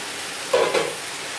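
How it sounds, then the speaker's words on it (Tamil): Chicken for a restaurant-style chicken salna is stirred in a hot pan, giving a soft, steady sizzle with a brief scraping stir near the middle. "சிக்கனும் சேர்த்து தான் இதை நல்லா வதக்கணும்"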